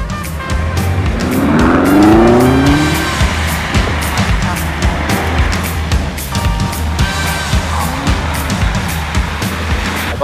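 A car of over 600 horsepower roars as it accelerates hard, with tires squealing and repeated gear changes, loud and close throughout.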